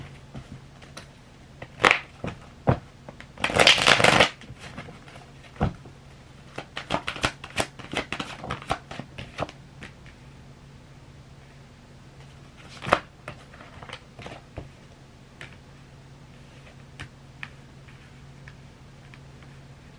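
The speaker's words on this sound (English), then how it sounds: "Let me give this a quick shuffle." Tarot cards are shuffled in quick riffling bursts, one loud flurry near the start followed by scattered softer card taps and clicks against a quiet room hum.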